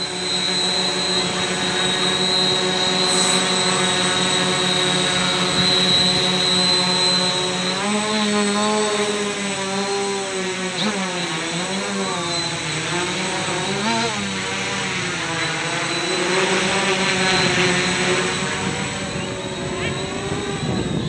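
An HK X650F multirotor drone with new ESCs and a NAZA Lite controller hovers hands-off, giving a steady loud buzzing whine with wavering tones as the motors hold position, continuous throughout with no talking.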